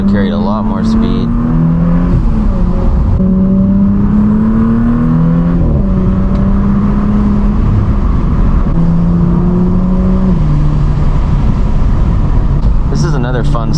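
Audi S4 fitted with a sway bar kit, accelerating through corners on a road, its engine droning and rising and falling in pitch with gear changes, loud and close from inside the cabin.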